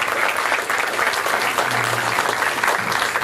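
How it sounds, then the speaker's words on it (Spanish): Audience applause for an award presentation at an education ceremony: dense, steady clapping from a large crowd, loud and sustained throughout with no talk over it. "Entregamos el reconocimiento con el fuerte aplauso de todos ustedes."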